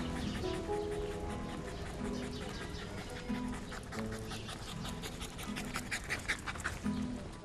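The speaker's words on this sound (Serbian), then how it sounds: "Srećan pas koji ima lep dom." Dog panting steadily at close range in a home, quick rhythmic breaths with faint whimpers and birds chirping in the background.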